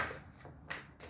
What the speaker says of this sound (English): I know sometimes these shuffles take a while